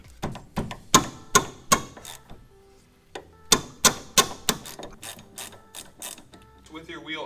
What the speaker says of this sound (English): Go ahead and take your 12mm socket and your ratchet,